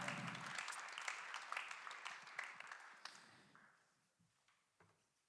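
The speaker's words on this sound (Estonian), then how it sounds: "natuke hoiame veel aplausi" Audience applause at an architecture awards ceremony, a dense burst of clapping that stays loud for about three seconds, then thins into scattered claps and fades.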